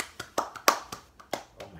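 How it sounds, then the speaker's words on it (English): Several quick, quiet hand claps in an uneven rhythm, like a small round of applause. "Round of applause."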